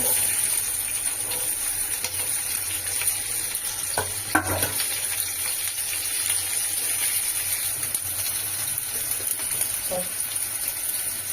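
Chopped chicken frying in oil in a pan for chicken Manchurian, a steady close sizzle throughout with a few soft clinks and stirring touches, no talk.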